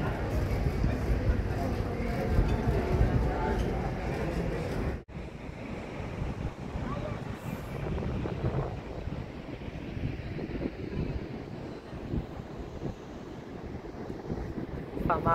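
Surf on Famara Beach with the tide going out washes steadily beneath gusty wind buffeting the microphone, a continuous close roar with a sharp knock partway through.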